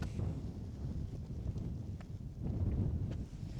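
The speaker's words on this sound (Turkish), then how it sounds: "Çok da rüzgarlı şu an." Strong wind buffets the microphone outdoors at a scenic hilltop site on a Denizli–Uşak motorcycle route, a continuous low roar that swells and rumbles throughout, close and loud, with no voices.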